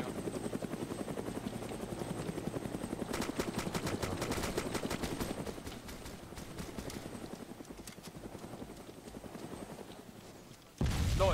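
A hovering Ka helicopter in the video game DayZ drones steadily throughout, with bursts of gunfire crackling over the rotor noise in the middle and a louder shot near the end.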